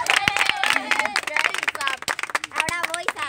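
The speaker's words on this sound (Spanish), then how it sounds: "Dale, dale, aplauso." Small friendly gathering for a Friendship Day gift exchange breaks into brisk, close hand clapping with sharp irregular claps, mixed with cheerful voices and chatter.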